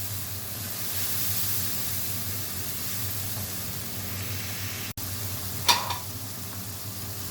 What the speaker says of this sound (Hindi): देखिए मसाला भून जा रहा है